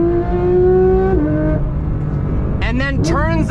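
A Porsche 992 GT3 engine pulls hard on a twisty road, a loud rising tone that drops at an upshift, then rasping crackles and warbling revs as the throttle eases, close and dominant.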